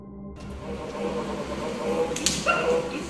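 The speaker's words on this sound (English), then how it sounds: "it seems to become very aggressive and begins growling in response" A Mickey Mouse children's toy gives a low, rough growl that rises and falls over a few seconds at close range. A brief higher whine comes near the end.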